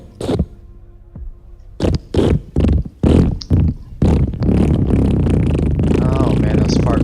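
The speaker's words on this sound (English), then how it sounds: "those fart noises are loud" A series of loud, sputtering fart noises from The Operator game burst out in short bursts, several in quick succession, before blending into a continuous rumbling stretch with a voice speaking over it.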